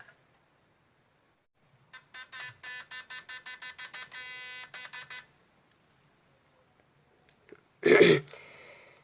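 A homemade fish-stunning machine built on an IRFP150N MOSFET inverter circuit powered from a battery starts up, giving a rapid string of buzzing pulses that merge into a steady buzz for a few seconds, then one loud burst near the end.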